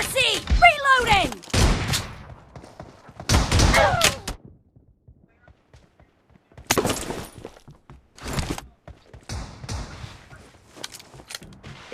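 Shotgun blasts in PUBG Mobile ring out in sharp bursts, a few loud close shots separated by quiet gaps, with players' voices talking over the action.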